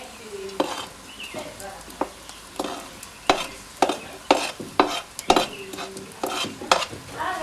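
Goat massalé with onions and spices frying in a pot: loud, close sizzling broken by repeated sharp scrapes and clanks of a spoon stirring against the metal, in an uneven rhythm.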